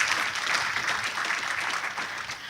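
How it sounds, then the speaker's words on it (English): An audience at an AGM applauds, a dense, steady wash of clapping from a crowd heard at moderate distance, holding even for the whole short stretch. "A round of applause for him once again."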